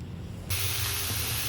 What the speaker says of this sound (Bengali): এখানে বিটরুট, গাজর, পেঁয়াজ আর টমেটো এগুলো দিয়ে এখন ভাজছি